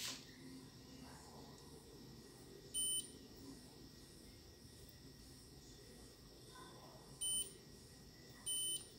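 A multimeter on continuity range gives short, faint electronic beeps while probing capacitors near the power IC on a Samsung J7 Prime 2 phone board, with three brief tones over a quiet background hiss.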